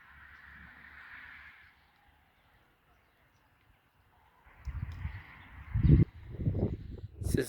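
Birds call in a garden, a thin chatter at first, then a stretch of near silence before gusts of wind buffet loudly against the microphone, with the bird calls continuing above the rumble.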